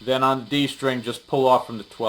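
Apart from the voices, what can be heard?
No distinct noise like a dog, phone or traffic.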